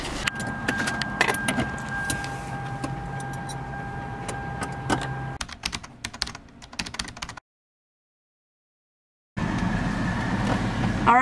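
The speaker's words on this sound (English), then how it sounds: "I'll turn off the car real quick." A parked car's engine idles as a low steady hum with jangling keys and clicks on top, then shuts off, leaving a short silence before faint ambient noise returns.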